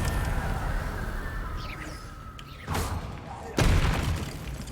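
A Confringo blasting spell in Hogwarts Legacy lands in two explosive impacts, the second heavier and more booming, over a steady bed of game ambience.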